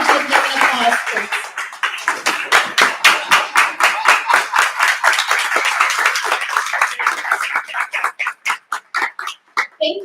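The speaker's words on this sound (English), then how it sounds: "Can we just stand and give them an applause, please?" Applause for leaders at an African American Leadership Council member celebration, rising into steady clapping that turns into a slower rhythmic unison clap near the end, with some voices mixed in early on.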